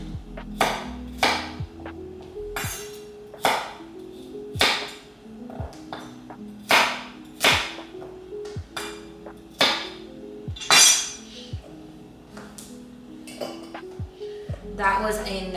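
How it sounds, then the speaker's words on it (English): Fresh produce being chopped into smaller pieces on a cutting board before juicing, a steady series of sharp knife knocks roughly every half second, close and clear, with a faint clink now and then. "Chop it into some smaller pieces just so we can make it a little bit easier on the juicer."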